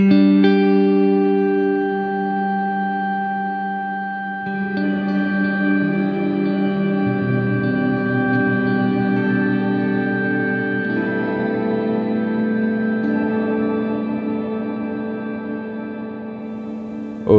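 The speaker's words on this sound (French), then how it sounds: "Et le shimmer, alors le shimmer, donc c'est un effet d'ambiance comme ça, c'est on va pousser le decay," A shimmer reverb ambience effect on a guitar effects pedal, with the decay turned up. Sustained electric guitar chords ring out in a lush, shimmering wash of layered overtones that swells and lingers for the whole stretch without any talk.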